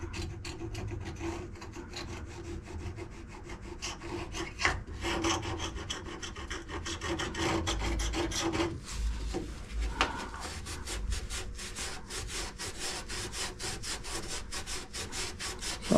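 Glue being scuffed and scraped off the bodywork of a 1977 Regal during restoration, a steady close rasping rub with repeated strokes throughout, no talking.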